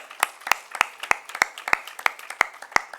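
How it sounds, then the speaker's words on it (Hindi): An audience at a lecture at JNU claps in a quick, even, synchronized rhythm, about three crisp claps per second, sounding fairly close and without talk. "अरे ताली बजाइए."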